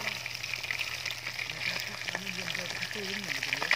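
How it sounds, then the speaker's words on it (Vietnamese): Freshwater field fish frying in a pan, a steady crackling sizzle running throughout with faint talk over it. "Chiên lên mọi người, thấy chưa?"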